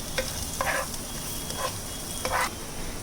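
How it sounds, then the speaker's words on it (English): Palak paneer ingredients being sautéed dhaba style in a pan, a steady sizzle with a few short bursts of stirring and scraping, fairly close but not loud. "Saute it nicely."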